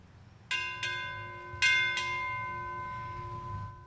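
Four ship's bell strikes ring out in two quick pairs at a US Navy Seabee change of command ceremony, bright metallic tones that linger and decay in a quiet hall.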